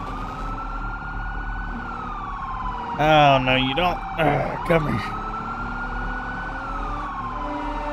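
A police siren in the Roblox game Emergency Response Liberty wails continuously, rising and falling in pitch, while someone talks over it in short excited bursts midway through.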